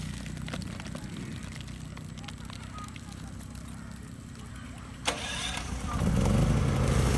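A generator engine starts up at a site where a KWA water pipe joint is being made. A steady background din gives way to a sharp knock, then a rising low engine rumble near the end, with voices talking over it.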